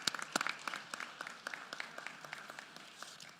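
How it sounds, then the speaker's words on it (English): An audience at a state of public education address claps in a scattered, steady patter, faint and distant, with no voices over it. "Let's applaud to that."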